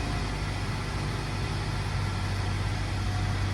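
Nissan Rogue Sport engine idling steadily after a remote start from the key fob, a constant low hum with a broadband hiss and no speech.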